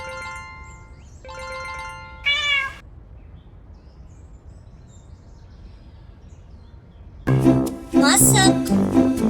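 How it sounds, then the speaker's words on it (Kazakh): A cat gives a short meow after a few tonal chimes, then a long stretch of quiet, then a louder, drawn-out wavering meow near the end. "Мысық."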